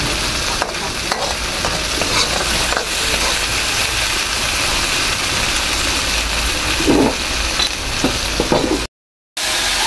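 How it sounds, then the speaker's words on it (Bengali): Bombay duck fish coated in turmeric frying lightly in a pan, a continuous close sizzle with occasional stirring scrapes, cutting off into brief silence near the end. "মাছগুলো দিয়ে হালকা ভেজে নেব।"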